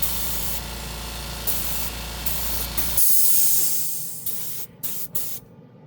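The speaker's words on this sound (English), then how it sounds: "I just wanted to see how this gun sprayed." A cheap Harbor Freight paint spray gun sprays paint in a loud, steady hissing blast for about three seconds. A quieter, rougher spray follows and then trails off in short bursts.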